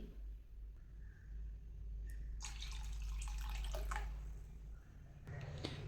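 Water poured into a pot of Kerala buttermilk curry with colocasia (chembu), a splashing, gurgling pour that swells for a few seconds, then tails off before a short second splash.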